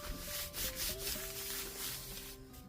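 Packaging pressed and rubbed down by hand onto glued fabric for a no-sew junk journal cover, giving a steady, close scuffing and rubbing sound with soft pressure shifts throughout.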